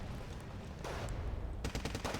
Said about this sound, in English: even a BTR-80 can do damage to these vehicles with a heavy machine gun